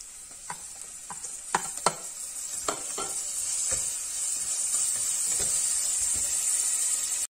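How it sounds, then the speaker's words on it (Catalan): Onion, garlic and parsley fry in a pan for Valencian rice with peas, a steady close sizzle that builds and holds, punctuated early by several sharp clinks and stirs of a utensil against the pan. "Una volta tenim la ceba sofregideta li tirem l'all i el julivert."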